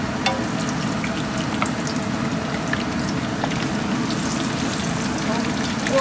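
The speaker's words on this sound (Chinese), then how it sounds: "好，现在可以把这个茄子给扔下去煎一下。" Eggplant pieces fry in very hot oil in a wok, giving a steady, close, dense sizzle that crackles evenly throughout.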